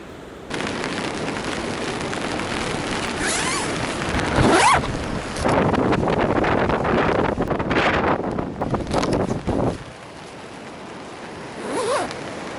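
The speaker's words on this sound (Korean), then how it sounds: "이게 바람이 장난이 아니네요, 지금" Strong storm wind buffets a beach campsite at Igari Beach, roaring and gusting loudly against the microphone in surging waves, with no voices.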